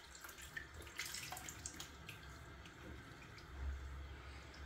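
Razor rinsed under a running tap at a sink, a soft continuous splash of flowing water with faint clinks, steady throughout and quiet, with a slight swell near the end.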